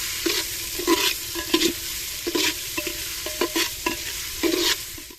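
Boiled soybean chunks stir-fried with salt and turmeric in a pan: a continuous close sizzle broken by repeated spatula scrapes and tosses in an uneven rhythm, with no talking.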